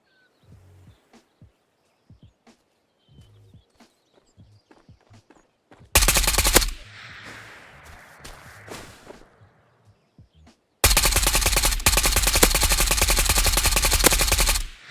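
Sustained full-auto bursts from an AK Alpha rifle in the VR shooter Ghosts of Tabor: soft footsteps and scattered clicks first, then a short, loud, rapid-fire burst, a pause, and a second, longer, dense stream of shots near the end.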